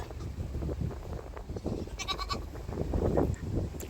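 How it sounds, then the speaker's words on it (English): Baby goats and lambs bleat at a wildlife park, several short, close cries over a busy background of animal noise. "some baby lambs, baby goats here rather."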